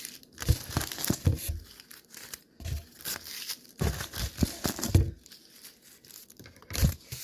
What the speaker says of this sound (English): So I'm going to cut some tissue.